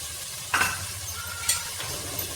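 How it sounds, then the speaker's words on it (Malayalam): Finely chopped onions fry in hot oil with popped mustard seeds, a low steady sizzle marked by two brief stirring scrapes and a few faint clinks, with no talking. "അപ്പം എണ്ണ ചൂടായതിന് ശേഷം കടുക് പൊട്ടിച്ച് അതിലേക്ക് നമ്മൾ സവാള ഇടുകയാണ്"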